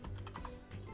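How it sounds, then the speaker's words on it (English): Computer keyboard typing in a Parkitect session, a quiet run of soft, rapid keystrokes with no voice over it. "We could just type that in."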